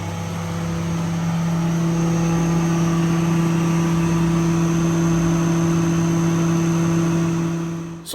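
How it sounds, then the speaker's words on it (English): A rotary screw air compressor driven by a 20 hp three-phase motor runs fully loaded, a steady, even hum with strong low tonal drone, constant and close throughout. "So this is the air pump, the rotary screw, and the 20 horsepower 3-phase motor back there."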